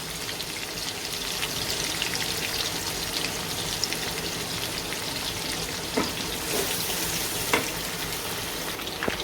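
Chopped onion frying in a pan for fried chicken yakhni pulao, a steady broadband sizzle with faint crackles throughout and a few small clinks and stirring sounds, no voices.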